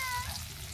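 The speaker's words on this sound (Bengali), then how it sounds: "সয়াবিনটা ভাজা হয়ে গেছে, এবার নামিয়ে ফেলব।" Soybean chunks with salt and turmeric sizzle in a pan over a wet-wood cooking fire, a brief soft frying crackle heard alone at close range.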